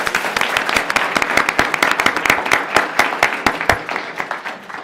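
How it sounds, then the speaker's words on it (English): Applause at a city commission meeting, a lively crowd clapping loudly and steadily for several seconds with distinct sharp individual claps and no speech. "he really deserves an applaud"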